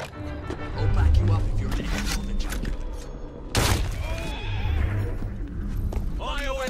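A horse whinnies and snorts amid busy Assassin's Creed Syndicate game sound effects, with thuds and a sharp crash partway through and a voice talking over it.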